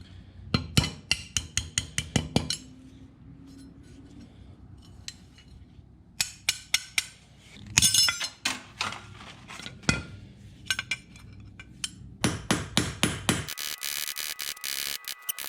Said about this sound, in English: we've got the brass pins peened over, and this is securely locked on there now